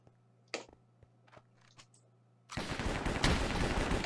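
AK-47 gunfire in Hypixel Cops and Crims: a few sparse, scattered shots, then a sudden dense burst of continuous automatic fire that stays loud and close to the end, with no talking.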